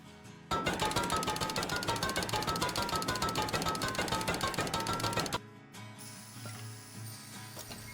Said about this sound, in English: I might honestly be able to jackhammer in.